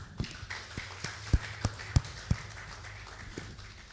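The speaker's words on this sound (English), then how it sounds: "if you would clap, please clap properly" A few sparse, uneven claps at an innovation summit evening session in Nigeria, some sharp and close, others faint, in an otherwise quiet room.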